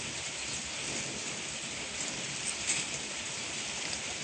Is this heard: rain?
yes